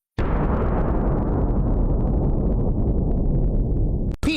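A bomb explosion sound effect lands in a comedy sketch, one loud deep blast that hits suddenly and rumbles on for about four seconds before cutting off abruptly.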